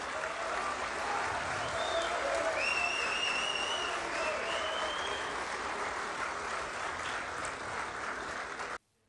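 An audience at a forum applauds, a steady wash of many hands clapping at moderate distance, with a few voices calling out above it before it cuts off sharply at the end.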